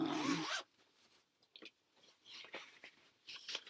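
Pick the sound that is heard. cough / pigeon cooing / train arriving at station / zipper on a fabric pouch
zipper on a fabric pouch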